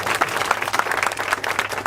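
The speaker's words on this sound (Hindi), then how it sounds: "खुदा के जलाल के लिए जोरदार ताली बजाएं" A church congregation claps at a worship service, a dense, steady patter of many hands close by with no words over it.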